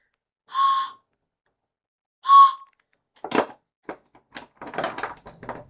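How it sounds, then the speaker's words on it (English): Two short, bright blasts from a homemade shop-class whistle sound alone with a pause between them, then a person starts talking. "Random whistle I made in middle school shop class"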